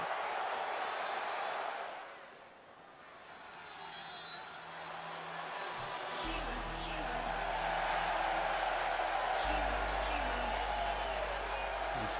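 Wrestling crowd at a Super Pro Championship Wrestling event roars and murmurs in a continuous, loud wash that dips briefly and then swells, with low rumbling underneath.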